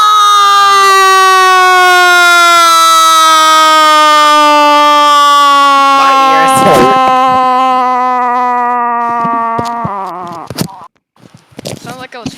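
A voice imitates a Stuka dive bomber siren, a loud sustained wail that slowly falls in pitch for about ten seconds, then breaks off into scattered sputtering noises.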